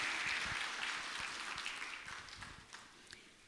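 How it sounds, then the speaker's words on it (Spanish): A church congregation giving applause, a dense wash of many hands clapping at once that holds steady, then slowly fades, heard from a moderate distance. "Vamos a darle un fuerte aplauso al Señor."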